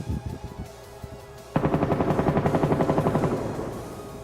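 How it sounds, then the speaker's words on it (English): Gunfire in a survival video game: a couple of single shots, then a rapid automatic burst of about two seconds that fades out, loud and close. "Oh, I hear gunshots."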